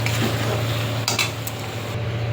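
A metal wok is set down and handled on a stove with a couple of short clanks and scrapes midway, over a steady low hum from the burner or kitchen.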